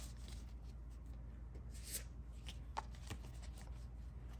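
Tarot cards being shuffled by hand, a soft continuous riffling and sliding of the deck with a few sharper flicks, close and quiet, with no talking.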